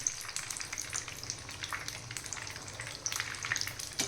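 Three batter-dipped green chillies fry in hot oil for chilli bhaji, a steady close crackling sizzle with bright popping spatters throughout and no voices.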